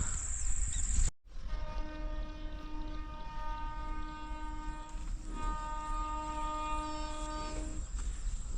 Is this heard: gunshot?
no